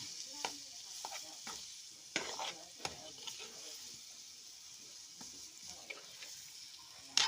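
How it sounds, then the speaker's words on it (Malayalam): A mushroom curry with turmeric, coriander and chilli powders is stirred in a pan, quiet scraping and knocking strokes recurring irregularly over a faint sizzle. "അപ്പോൾ ഇനി നമുക്ക് ഇതെല്ലാം കൂടി ഇളക്കി യോജിച്ച് കൊടുക്കണം"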